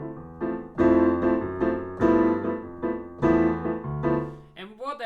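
Jazz piano chords played in a steady, even crotchet-triplet pulse against a slower walking bass, close and clear, ending with a brief snippet of voice.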